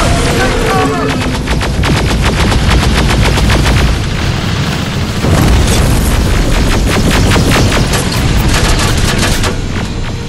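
Gunfire in the Terminator: Resistance video game: dense, loud bursts of automatic fire and booming shots that crackle nonstop in a chaotic exchange, with faint voices shouting beneath.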